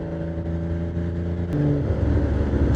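A Porsche 987 Boxster engine hums with a deep, bassy drone while driving, steady at first and then growing louder and rougher as the car pulls harder, close and continuous with no talk.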